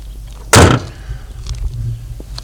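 A single loud, sharp slam as the hood of a naturally aspirated Suzuki Swift Sport is shut, followed by a low idling hum and faint background noise.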